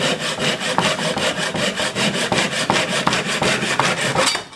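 A handsaw cuts through wooden rocking chair parts during a repair, with steady back-and-forth rasping strokes, loud and close, repeating rhythmically without talk.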